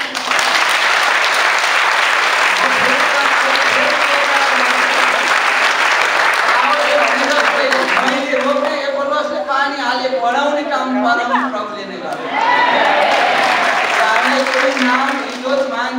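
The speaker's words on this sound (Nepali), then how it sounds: "म फेरि परमेश्वरलाई जोरदार ताली" Loud, sustained applause from an audience at a Nepali Christian church federation gathering, continuous clapping filling the whole stretch with voices mixed in and a brief dip near the end before it swells again.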